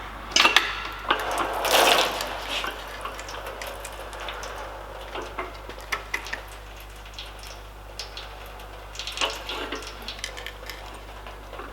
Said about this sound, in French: Il risque d'y avoir un peu d'eau qui va couler encore